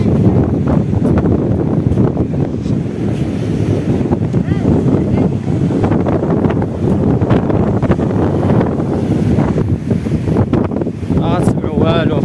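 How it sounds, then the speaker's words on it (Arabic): Strong wind gusts buffet the microphone beside a rough sea at a seaside park in Tangier, a loud continuous roar with a person talking underneath. "كان الريح كاين"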